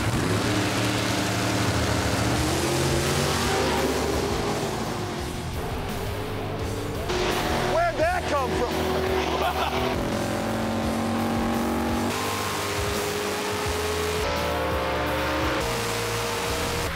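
Chevy drag racing cars launch hard off the starting line at Sonoma Raceway, loud roaring engines revving and accelerating with tire squeal, continuous and close throughout with no talk.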